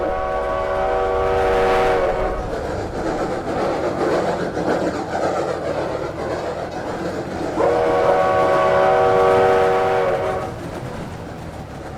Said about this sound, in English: the train just drives on its own